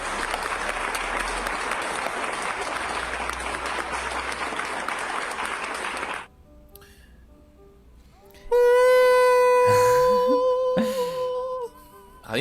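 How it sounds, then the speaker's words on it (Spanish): A crowd claps loudly and steadily for about six seconds, then quiet, followed by a loud burst of bright musical tones. "Un aplauso."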